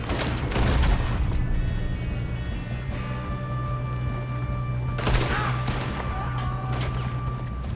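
Gunfire rings out in a realistic-graphics PC video game about surviving, hunting and robbing. A loud cluster of shots comes at the start, and another burst follows a few seconds later, both over a constant low rumble of game ambience.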